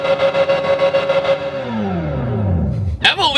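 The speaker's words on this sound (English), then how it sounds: "it has that like crazy high revving, you know, V8 or V10 sound from an F1 style car" Hyundai Ioniq 5 N electric car playing its simulated high-revving, F1-style V8/V10 engine sound: a loud, near wail that climbs, then drops away in pitch before a sharp rev flares up again.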